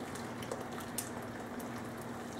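Steady bubbling and rumbling of water boiling in a pot with bottles in it, a continuous close hiss with no voices.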